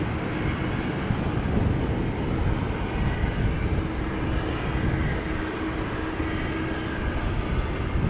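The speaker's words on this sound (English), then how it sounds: "KLM A321 is continuing its taxi" A KLM Airbus A321 taxis at Amsterdam Schiphol Airport, a continuous broad rumbling engine drone with a faint steady tone, even and sustained throughout.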